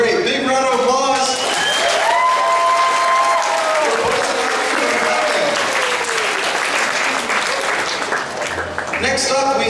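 Audience applause at an anime convention costume contest, a sustained wash of clapping from a crowd with cheers and whoops rising over it before fading near the end.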